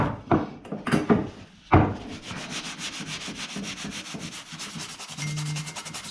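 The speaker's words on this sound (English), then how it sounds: "just rub it flat with a bit of sandpaper." Copper pipe conduit for industrial-style light fittings is rubbed with foam sandpaper, producing close, rhythmic scratchy strokes at first, then a steadier continuous rasp.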